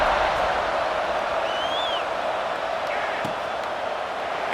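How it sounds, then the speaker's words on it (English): A football stadium crowd keeps up a loud, continuous buzzing roar after a score in a game against Georgia Tech, with a brief whistle-like tone rising over the crowd. "this crowd is buzzing after that last score"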